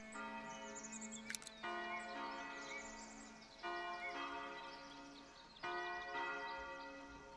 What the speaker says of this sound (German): Ton des Glockenturms.